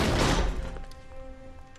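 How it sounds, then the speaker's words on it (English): A single sharp gunshot bang in the video game L.A. Noire at the start, decaying quickly into a faint ringing tail and quiet background tones. "Is that a gunshot?"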